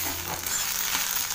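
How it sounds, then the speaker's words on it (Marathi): Food sautéing in a pan as it browns to red during a morning kitchen routine of making quick chilli pickle, a steady soft sizzle and hiss with no clear talk. "चांगला असा लाल परतून घेणार."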